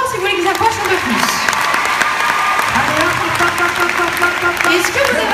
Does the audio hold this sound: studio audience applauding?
yes